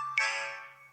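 A mobile phone ringtone sounds once, close and clear, a bright tonal chime that rings out and slowly fades within a second in otherwise quiet surroundings.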